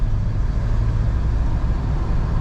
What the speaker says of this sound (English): you'll get a little bit of wind noise going down the highway